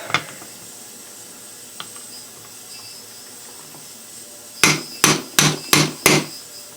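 A few faint taps, then five sharp metallic hammer blows in quick succession, close and loud, ringing briefly after each strike, as a Boca OS BX-1 bearing is driven into place with a socket extension until fully seated.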